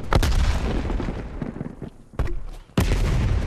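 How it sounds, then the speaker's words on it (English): Grenade launcher explosions and gunfire in Call of Duty Black Ops Cold War multiplayer on the Nuketown 84 map, with loud booming blasts and sharp bursts in quick succession, a brief lull, then another heavy blast. "Really, somebody using an M23 grenade launcher?"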